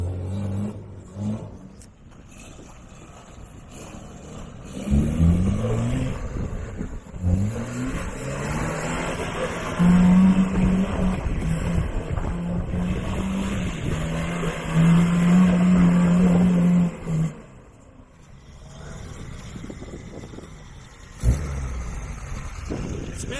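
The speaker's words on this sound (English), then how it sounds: "driving over these whoops to see if it helps with the wobble" A Suzuki Geo Tracker with a front-end wobble drives over off-road whoops, its engine revving and roaring loudly in surges between quieter idling stretches.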